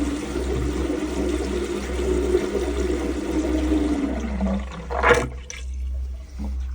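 Water pours steadily during a leak test, a continuous rushing flow with a low hum beneath that tapers off near the end, followed by a brief splash or clatter.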